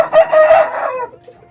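A rooster gives a single loud, close crow, rising then fading out over about a second, with no other sounds alongside.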